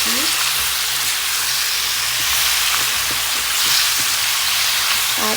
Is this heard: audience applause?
no